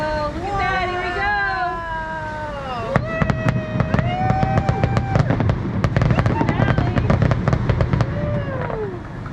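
A fireworks show seen from the Grand Californian Hotel fills the air with rapid, crackling bursts and booming explosions. The bursts come in quick irregular clusters and are loud throughout, while people nearby talk and cheer.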